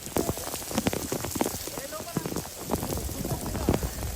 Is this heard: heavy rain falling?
yes